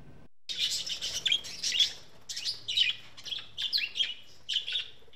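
A huge flock of parakeets at an animal rescue, hundreds of birds surrendered together, chirps and tweets in a dense, continuous chatter with repeated bright bursts, close and lively with no talking.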